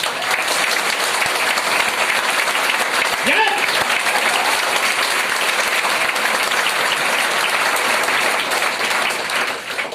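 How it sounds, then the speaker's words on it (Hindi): Loud, sustained applause from a seminar audience in Bilaspur fills the whole stretch as a dense, steady wash of clapping with no break. "तो एक बार अपने लिए तालियां बजा ले जोरदार।"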